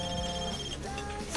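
Telephone ringing with a steady electronic trill, loud and continuous through a short stretch of busy background.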